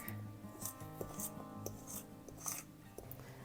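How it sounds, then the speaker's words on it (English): Vegan butter being cut into gluten-free flours for a pie crust, heard as repeated soft rasping, scraping strokes at close range under steady background music. "I'm going to coat the butter in the flours and then cut them into the flour."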